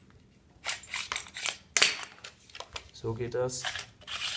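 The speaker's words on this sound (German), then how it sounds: "Wenn man hier drauf drückt, kann man diese Schienen hier nach vorne abziehen." Plastic protective covers sliding off the RIS rail of a T4E TM4 real action marker, a few short scraping clicks close by, with a person talking over part of it.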